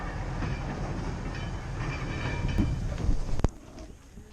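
A train rumbles and clatters past close by at a rural Norfolk railway station, the noise building to a loud peak and then cutting off sharply into near quiet.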